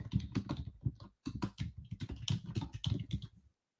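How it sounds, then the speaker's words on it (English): Rapid typing on a computer keyboard, with dense clusters of crisp key clicks in uneven bursts, close and alone, and one short pause midway. "I'm typing on WebEx."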